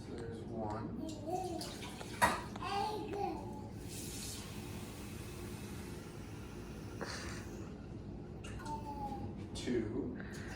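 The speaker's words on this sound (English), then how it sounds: "We're going to add 3 cups of water to our pan." Water, about three cups, is poured into a small saucepan in a kitchen, giving a soft, steady rushing splash in the middle while voices talk quietly around it.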